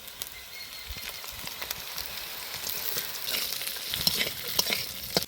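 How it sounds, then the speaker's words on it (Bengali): Katla fish head frying with onion and chilli in a pan, a soft close sizzle broken by scattered crackles and stirring clicks that grow busier toward the end, with no voices. "পেঁয়াজ লঙ্কা কাতলা মাছের মাথাটা সুন্দর করে ভাজা হয়ে গেছে।"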